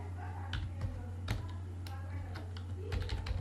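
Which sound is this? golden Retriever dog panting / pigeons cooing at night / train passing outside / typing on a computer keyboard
typing on a computer keyboard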